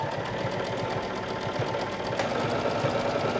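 A sewing machine runs a long 4.5-length stitch along a pocket seam on a skirt, a steady close mechanical whir with fast rhythmic needle pulses throughout, no talking.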